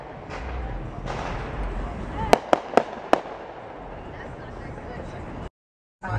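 Four sharp fireworks pop in quick succession over the low rumble of a car driving around, with indistinct voices in the background and a brief cut to silence near the end.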